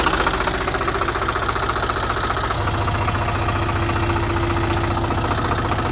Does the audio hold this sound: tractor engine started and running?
yes